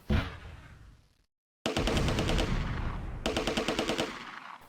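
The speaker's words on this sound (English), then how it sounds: "a machine gun opens up from the rail depot building" In the Close Combat: A Bridge Too Far war game at Arnhem, a machine gun fires from a rail depot building. A distant boom fades out, then sustained loud, rapid automatic fire rattles on, thickening into heavier overlapping bursts.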